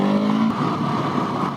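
The engine of a Husqvarna 701 motorcycle revs hard in first gear. A loud, close engine note holds steady and then breaks into a rougher, grittier roar for a brief moment.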